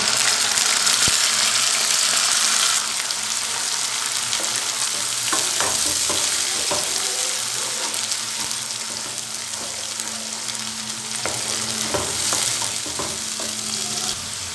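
A paste of tomato, garlic and ginger fries with onions in a pan, giving a loud, steady sizzle with stirring scrapes throughout and no voices.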